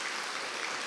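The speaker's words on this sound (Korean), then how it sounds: "박수로 환영 부탁드립니다" A church congregation claps at a Sunday worship service to welcome new members, a brief, fairly quiet wash of steady applause with no voices.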